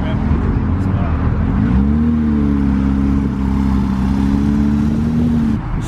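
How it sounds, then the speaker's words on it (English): Porsches leaving a car meet accelerate past close by, one engine climbing in a loud rising rev before holding a steady roar, with people talking in the background. "Here comes the PTS Porsche squad"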